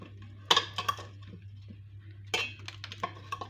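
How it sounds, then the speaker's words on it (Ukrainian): Button mushrooms get mixed with oil and garlic in a bowl for a quick marinade, with scattered clinks and knocks of a utensil against the bowl in two short bursts over a steady low hum. "Я це все акуратно перемішаю, щоб з'єдналися олійка із чесничком."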